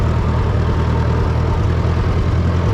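A backhoe engine running super rich idles close by in an open cab, a steady low rumbling drone with faint irregular pops throughout.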